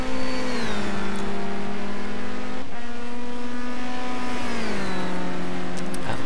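Race car engine in a racing video game holding a steady loud drone with smooth pitch dips and rises as it shifts and revs, continuous throughout with no talk.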